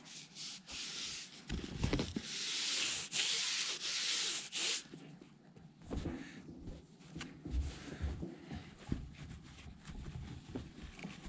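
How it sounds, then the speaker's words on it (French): Hand sanding of a renovated tractor interior part, a steady close rubbing scrape that is loud at first and then becomes quieter, intermittent strokes mixed with light handling knocks, with no voices. "je vais donner un petit coup à poncer là-dessus et refaçonner les trous"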